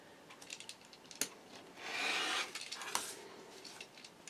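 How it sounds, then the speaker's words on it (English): Close, dry rasping and scraping as the edge of an in-the-hoop embroidered wallet is trimmed, with short strokes and a longer steady rub in the middle, with no voices. "I'm going to try to trim up the edge on this one as well."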